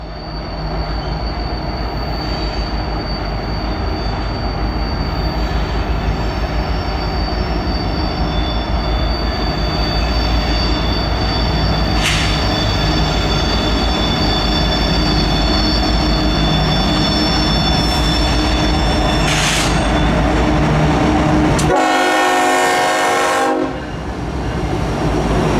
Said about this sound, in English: there's the horn action I was asking for